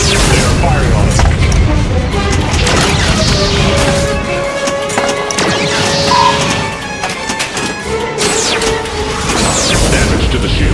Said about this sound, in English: They're firing on us.